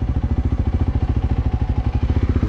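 KTM 390 Adventure motorcycle fitted with an Akrapovic exhaust, idling or cruising with a steady, loud, regular single-cylinder engine pulse and exhaust thrum throughout, close and alone.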